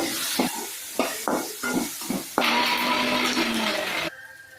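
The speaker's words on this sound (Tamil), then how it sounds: "காலிஃப்ளவரையும் வணக்கணும். நல்லா வணக்கணும்." Cauliflower is scraped and stirred in a pan in several short strokes, then a loud, steady sizzling rush that stops abruptly.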